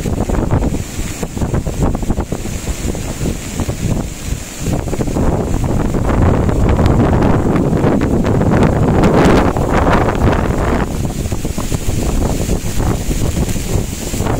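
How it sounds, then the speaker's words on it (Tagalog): Powerful typhoon wind at sea roars continuously and loudly, gusting harder midway, with heavy buffeting rumble on the microphone. "Ayan po, napakalakas pa rin ng hangin."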